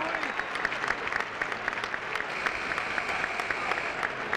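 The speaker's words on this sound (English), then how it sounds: "Gets a good hand from the crowd here as he bumped his head." A crowd at a 2003 college men's basketball game, Augustana College against Illinois, gives sustained applause to an injured player, with steady clapping from a moderately distant arena audience.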